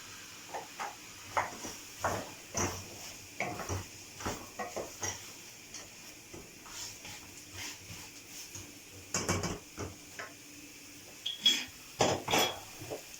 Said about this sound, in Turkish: Şimdi nohutumu ekliyorum.